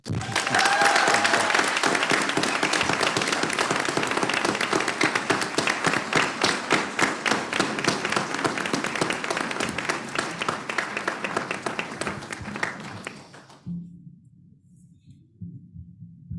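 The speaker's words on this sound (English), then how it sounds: "Give another round of applause" Audience at a school board of education business meeting claps in a long, even round of applause that thins out and stops abruptly near the end, leaving faint room noise.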